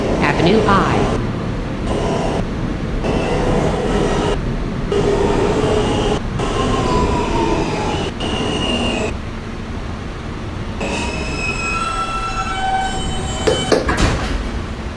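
A New York subway F local train bound for Coney Island, Stillwell Avenue runs loudly on its rails, a rolling rumble with rhythmic gaps and clicks, then rising wheel squeals near the end as it moves between Avenue I and Bay Parkway.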